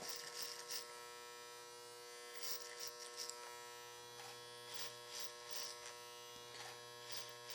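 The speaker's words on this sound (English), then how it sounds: "now here the clipper's struggling a little bit, so we're going to close it down all the way to a coarser cut" An electric hair clipper trimming a beard, set to a coarser cut while it struggles, buzzes steadily and close up with a dense motor whine, swelling in short bursts as it bites into the hair.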